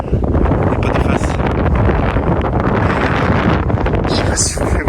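Strong, steady wind buffets the microphone high on the Acatenango volcano in Guatemala, a dense continuous roar filling the whole stretch.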